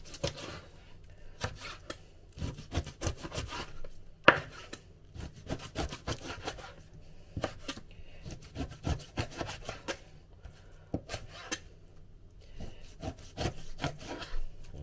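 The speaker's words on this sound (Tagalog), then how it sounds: "Tapos saka natin ito hiwain naman tong pork belly naman ang ating hiwain." A knife thinly slicing pork belly on a board: quick, repeated cutting strokes with a scraping, rasping edge, arriving in uneven bursts and short pauses, close and moderately quiet, with no speech.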